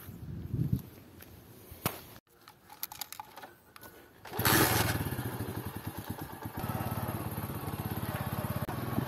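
A parked motorcycle on a rural trip in Punjab starts up after some thumps and footsteps, its engine then idling steadily and fairly loud with a regular pulsing throb to the end.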